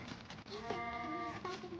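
Cows in the mobile video game South Park Phone Destroyer give a drawn-out bleating, lowing call in the middle of the clip, fairly clear, set against faint game background noise.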